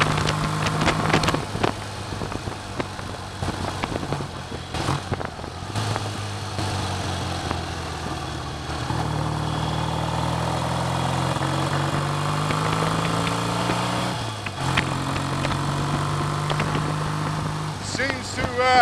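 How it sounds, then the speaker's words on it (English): A BSA A65T motorcycle engine running with a misfire, a steady loud drone with irregular dips and stumbles in its rhythm over nearly twenty seconds, heard up close while riding on a road, with occasional voice underneath. "Misfire is rearing its head again."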